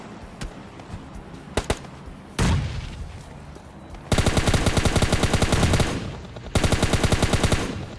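Automatic M4 rifle fire and grenade blasts from a battle royale video game, with scattered single shots giving way to long, loud, rapid bursts of gunfire that stop and restart near the end.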